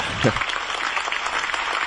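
A studio audience claps steadily for a guest on a talk show, a dense even wash of applause with a speaking voice briefly over the start.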